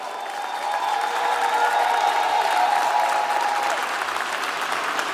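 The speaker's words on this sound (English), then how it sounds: "Give her a round of applause." Sustained audience applause at a centennial kickoff celebration for Hartsfield-Jackson, steady and fairly loud throughout with dense clapping and a faint crowd murmur and tonal hum beneath, no voices speaking.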